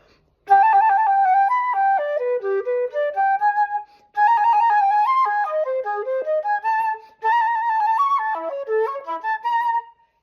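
Solo flute on a Pan (Donjon) study plays three clear melodic phrases separated by short breaths, each starting high and winding downward, gradually pushing the tempo forward; close and fairly loud with no talking.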